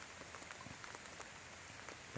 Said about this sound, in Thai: เอาบรรยากาศมาฝากนะครับมีฝนกำลังตกเลย